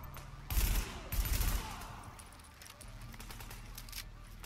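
Gunfire in the shooter game Tom Clancy's The Division: two loud bursts of rapid automatic fire with deep booming low end, followed by fainter scattered distant shots and crackles under a steady background hum.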